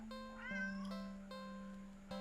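A cat meows in a video game: a sustained, clear, tonal meow stretching over two seconds, close and loud, with no voices.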